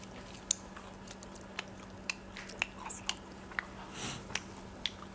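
Cold, crispy fried chicken bitten and chewed at close range, with sharp crunchy snaps scattered irregularly over several seconds and no talking.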